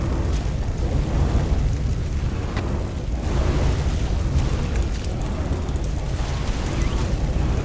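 Rocket launcher explosions in the video game ARK, a dense, continuous run of booming blasts and rumbling bursts that stays loud and close throughout, with no pauses between them.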